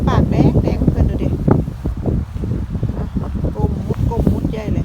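Strong wind blows outdoors on a scenic walk in bad weather, gusting and buffeting the microphone with a constant rough rumble, while someone talks over it throughout.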